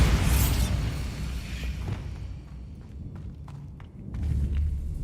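Bombarda explosion spell in Hogwarts Legacy, a heavy booming blast up front followed by scattered thuds and debris clatter, with another low rumble near the end.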